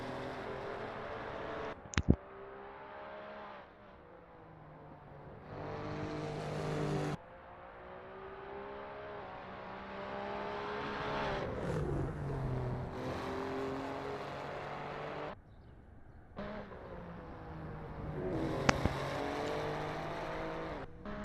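Onboard engine of an Alfa Romeo GTAm race car in a racing video game, revving hard and loud through repeated rising sweeps with sharp drops at gear changes, plus a few brief clicks.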